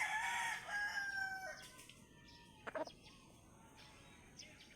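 A rooster crows in the morning: one loud, close crow trails off, followed by a few faint clucks and small bird calls against quiet outdoor background.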